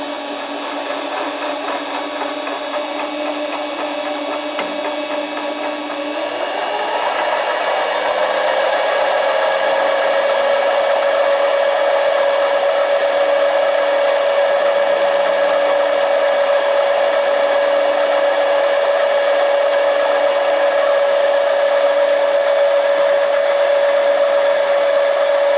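A Harbor Freight 7x10 mini lathe turns an aluminum tube, a steady motor whine that rises in pitch a few seconds in and then holds a loud, sustained tone with a faint cutting hiss, no voices.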